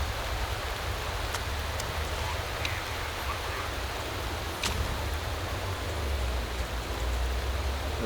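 Rain during a race in Motorsport Manager makes a continuous even hiss of falling water, with a low rumble beneath and a few faint ticks, holding steady throughout.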